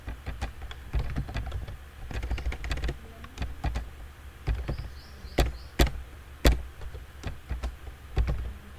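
Typing on a computer keyboard while writing HTML in the Sublime Text editor, irregular bursts of close clicking keystrokes with short pauses and a few sharper single key taps, no talking.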